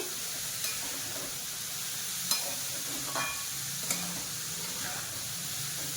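A pot of dal cooked as a Ganpati prasad offering is stirred and mixed under a steady bubbling sizzle, with a few sharp spoon taps against the pot's rim.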